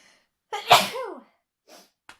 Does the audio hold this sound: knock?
no